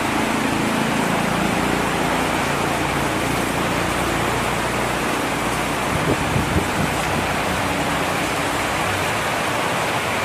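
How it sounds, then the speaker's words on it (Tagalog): Strong wind roars continuously in a broad, steady rush of noise, loud and close, with occasional low buffeting thumps against the microphone. "Mahangin siya, mahangin."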